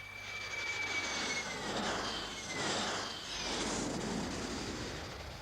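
An aircraft takes off with a loud, continuous jet roar that swells and surges in waves, and a thin whine falls away in pitch early on.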